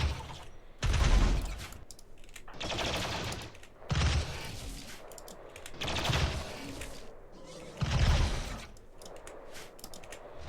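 Video-game gunfire from high-damage weapons in RimWorld, fired at armoured bugs during a mechanoid cruiser fight: loud bursts of rapid shots in several clusters, separated by brief lulls.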